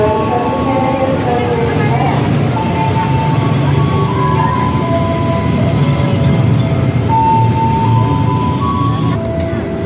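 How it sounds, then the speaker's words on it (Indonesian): A commuter train pulls into Buaran station in Indonesia with a loud, continuous rumble and metallic rolling noise, while busy crowd noise fills the platform throughout. "keretanya sudah datang ya teman-teman"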